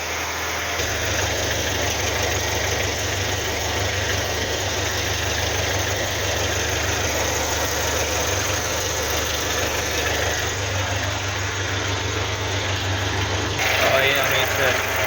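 Hillman Superminx car engine idling after a sump gasket renewal and oil change, a steady close low rumble with a constant drone running throughout.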